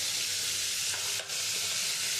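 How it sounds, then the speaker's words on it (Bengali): Pieces of bhola fish sizzle in hot oil in a pan, a dense, steady crackling hiss heard close up with a tiny dip in the middle. "আমার তেলটা গরম হয়ে গেছে। আমি এবারে মাছটা দিয়ে দেবো।"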